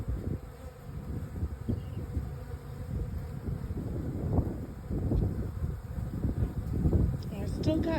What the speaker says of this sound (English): They've got little bee flapping and whatnot with their wings that give vibrations and sounds